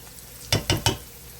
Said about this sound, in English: So I'm going to let that cook on low just because I want it to simmer down